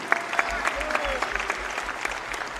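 Audience applause for a senior wrestler at a college men's wrestling meet, a steady spread of clapping from the crowd with some voices over it.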